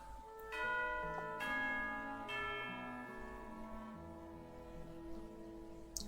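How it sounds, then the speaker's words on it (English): Layered chiming bells ring out for tea time in Genshin Impact, several struck tones with long, overlapping resonant decay hanging over a sustained low hum, moderately loud and with no voices. "In the past, the children would throw down their wooden swords at the moment they heard this bell, and they would come into the hall to have snacks"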